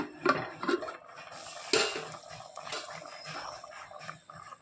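Mango curry (kadumanga, Kerala style) stirred in a clay pot: a few scraping, knocking strokes of a spoon against the pot, close and fairly quiet, with soft rubbing between them.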